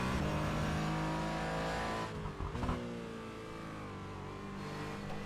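Porsche GT4 race cars at Spa-Francorchamps in a sim racing game, engines droning loud and steady, dipping briefly as revs shift and then climbing again, with no talking.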